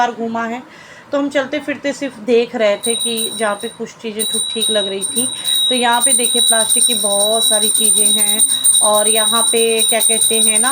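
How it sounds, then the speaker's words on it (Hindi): A small hand bell rings steadily during a home puja prayer, its bright continuous tinkling running beneath someone speaking in Hindi close by. "हस्बैंड जी पूजा कर रहे हैं तो घंटी बज रही है"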